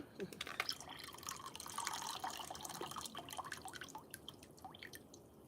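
Juice from canned yams is drained into a small bowl, with close, irregular drips and trickles splashing onto liquid, quiet and continuous, a faint voice occasionally underneath.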